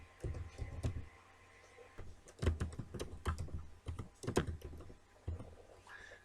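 Someone types on a computer keyboard nearby, producing irregular clusters of quiet key clicks and taps with short pauses between bursts, fairly faint and without speech.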